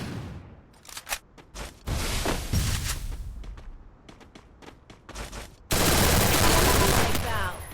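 Rapid bursts of automatic gunfire from the Free Fire video game, with several short volleys of shots followed by a louder, sustained stretch of firing near the end.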